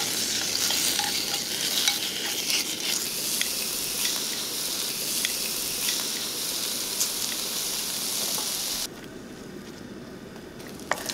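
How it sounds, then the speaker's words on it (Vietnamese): Pork belly fries in a pot on the stove with a steady, dense sizzle and crackle throughout, rendering its fat, before the sound drops abruptly to a quieter hiss near the end. "Mình cho thịt ba rọi vào, cháy cho thịt săn lại và từ từ thịt sẽ ra mỡ."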